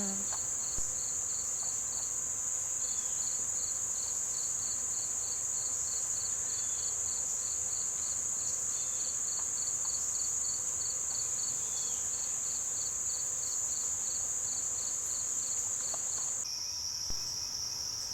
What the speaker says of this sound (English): the bees just cover it up and they make a loud humming noise because there's so many on them at one time